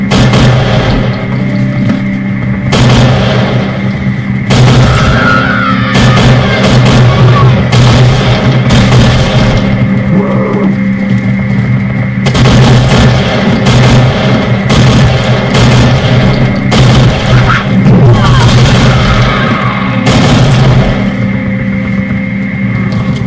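Loud bursts of gunfire in the zombie shooter No More Room in Hell come in irregular single shots and short volleys, with booming impacts over a constant game background hum.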